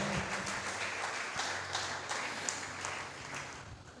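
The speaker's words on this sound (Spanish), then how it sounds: "Dale un aplauso a la palabra de Dios esta mañana" Church congregation applauding during a Sunday service, a faint, distant wash of clapping that stays fairly even across a few seconds, with occasional louder claps standing out.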